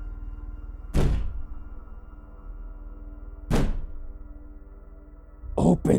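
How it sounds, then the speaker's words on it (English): Someone bangs hard against a door, trying to break it down: three heavy, separate thuds spaced a couple of seconds apart, the last one doubled, standing out over a low steady background hum. "When that didn't work, he tried breaking it down."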